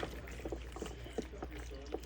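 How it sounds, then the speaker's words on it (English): Pasta salad with cucumber and red, orange and yellow bell peppers being poured into a container, giving soft wet plops and scrapes in an irregular rhythm, close but quiet. "I'm just gonna pour it in its container"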